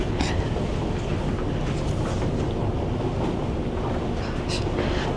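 Steady, dense rumbling fills the engine room aboard the Queen Mary ship, a continuous low mechanical drone with faint scattered clanks and hiss, close and unbroken throughout.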